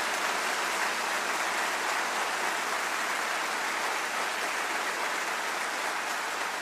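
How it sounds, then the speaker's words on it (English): A huge audience in a big convention-center arena claps continuously, forming a steady, even wash of distant applause with no talking over it. "Are people clapping for this?"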